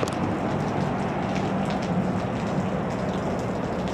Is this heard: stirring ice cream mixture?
no